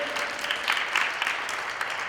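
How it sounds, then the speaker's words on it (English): A school audience of students applauds briefly, a short burst of scattered clapping of moderate loudness heard from a distance. "Give yourself a big round of applause."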